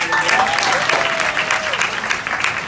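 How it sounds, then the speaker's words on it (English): A graduation ceremony audience applauds steadily and loudly, a dense wash of many hands clapping at once, with faint voices and whoops mixed in throughout. "Clap it up for yourself, please."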